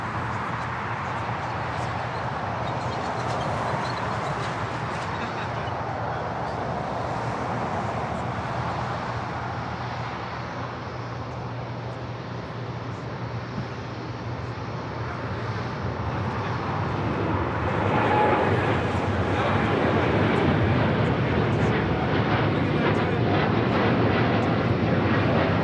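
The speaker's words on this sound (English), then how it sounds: "This is United Airlines 2614 taking off to Newark on a 787-10 Dreamliner." A United Airlines Boeing 787-10 Dreamliner rolls for takeoff at LAX, its jet engines a continuous broad roar that swells louder toward the end as the aircraft passes nearer.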